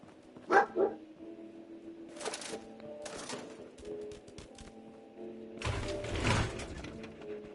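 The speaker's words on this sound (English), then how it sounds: "What a good dog." A dog in Fallout 4 gives a couple of short, close barks, followed by rustling, thumps and ambient game noise, with no talking.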